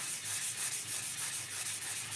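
Steady scratchy rubbing of a sanding sponge on wood, repeating in quick back-and-forth strokes, close up with no talking.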